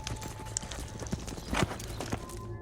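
Horse hooves clip-clop in a steady, fairly quiet rhythm, with faint background noise and a brief livestock-like sound partway through.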